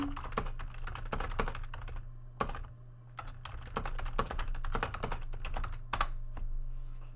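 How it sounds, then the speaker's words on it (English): Continuous typing on a computer keyboard, with rapid irregular key clicks and a few brief pauses, close and moderately loud over a steady low hum. "Here, I'll type that in."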